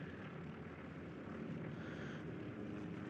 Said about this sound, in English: Recon planes are going out.